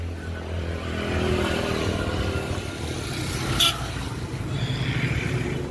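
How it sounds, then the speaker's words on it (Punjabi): A motorcycle roars past close by, a steady engine rumble that swells and fades with no one speaking. "ਮੋਟਰਸਾਈਕਲ ਵਾਲਾ ਲੰਘਿਆ"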